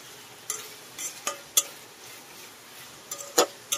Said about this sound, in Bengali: দিয়ে এর সাথে টমেটো, কাঁচা লঙ্কাটাও দিয়ে দেবো